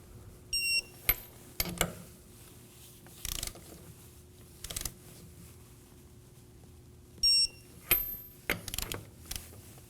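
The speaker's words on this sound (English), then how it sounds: "go ahead and torque it to 80 foot-pounds in a star pattern." A torque wrench tightens the rear wheel lug nuts on a 2011-2016 Kia Optima to 80 foot-pounds in a star pattern, giving short, separate bursts of ratcheting clicks spaced across a quiet background.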